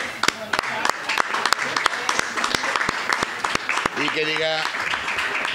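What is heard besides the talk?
audience applause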